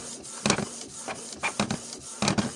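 A faulty Canon G3411 printer carriage knocks repeatedly in an uneven rhythm, sharp clicks and thumps over a steady mechanical hiss, close up.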